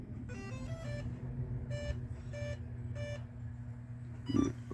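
Several short electronic beeps in a rising tonal pattern come from the Spektrum smart receiver ESC of an RC Jeep built on an Injora chassis, heard close over a steady low hum with a brief thump near the end.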